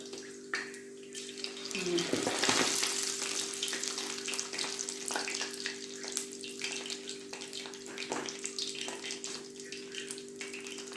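A washed eggshell dropped into hot frying oil for Tunisian youyou doughnuts, bursting into a loud hiss and crackle that then settles into a steady, close sizzle.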